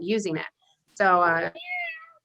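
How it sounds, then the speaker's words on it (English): A robotic toy cat gives a couple of clear, tonal electronic meows, close and fairly loud, alternating with a person talking nearby. "you can hear it meowing"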